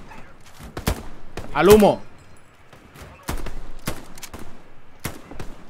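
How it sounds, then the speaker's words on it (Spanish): Short bursts from a Browning machine gun in the WWII shooter Hell Let Loose, Omaha beachhead, crack out in several sharp volleys across the clip, with someone speaking briefly between the shots. "Disparo con la Browning."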